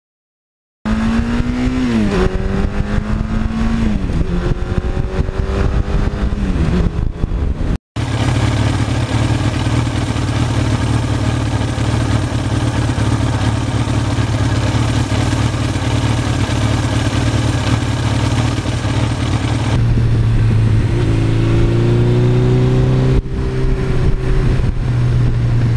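A 1982 Suzuki GS1100E with an air-cooled engine and over 73,000 miles runs close by, revving up and down early on, then holding a steady loud idle before a few more throttle blips near the end.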